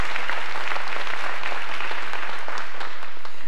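An audience applauding honorees at a ceremony, loud sustained clapping from many hands filling the room at a steady level, with no voices over it.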